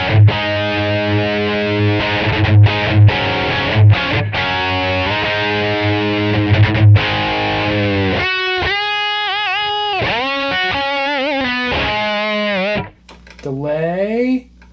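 Distorted electric guitar played through a Line6 POD amp modeler, with sustained chords and notes ringing out before giving way to bent, wavering lead lines with effects. The tone stays loud and up close throughout.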